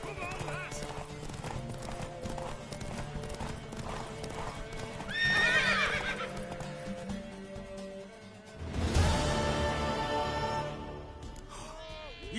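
Horse hooves clip-clop steadily in a video game, with loud whinnies and neighs rising over the hoofbeats and in-game voices speaking.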